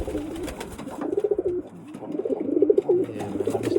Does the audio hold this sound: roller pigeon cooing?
yes